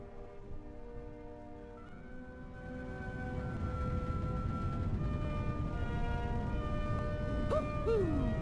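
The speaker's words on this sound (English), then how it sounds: "That's an unusual bird. It's an owl." An owl hoots in the video game Tales of Arise, a soft low call over sustained ambient music that swells gradually, with a gliding tone near the end.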